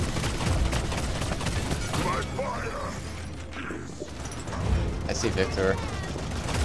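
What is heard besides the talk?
gunfire in the video game Paladins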